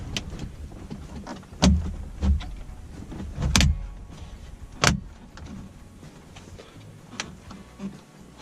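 Several sharp plastic clicks and knocks as a Kenwood DDX9703S stereo is pushed into the dash of a 2002 Ford F350, irregularly spaced, close up, over a faint background hum.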